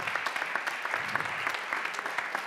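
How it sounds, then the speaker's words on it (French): An audience at the Blue Ocean Awards 2016 ceremony gives the jury a dense, steady round of applause, many hands clapping together at close range. "applaudir le jury de Texap West"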